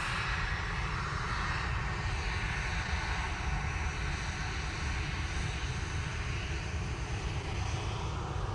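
A Ryanair passenger jet at Manchester Airport gives a loud, continuous engine roar that stays steady and unbroken throughout, with no talk over it.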